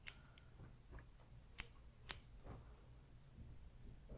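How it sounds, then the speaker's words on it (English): Pelican scissors make a few crisp, sharp snips: two loud cuts stand out near the middle, with fainter clicks and soft handling noise in a quiet room. "What are these scissors called again, Kaylee?"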